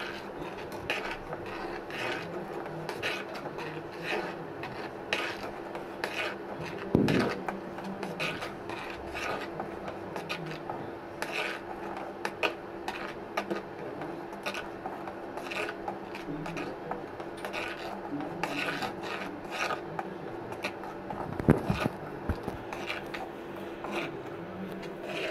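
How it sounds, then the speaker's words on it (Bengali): Cornflour being stirred into a pan of homemade tomato sauce, a steady close rasping scrape of the spoon with a few louder knocks against the pan. "কর্নফ্লাওয়ারটা আমি দিয়ে দিচ্ছি। এখন এটা আমি ভালোভাবে মিশিয়ে নেব।"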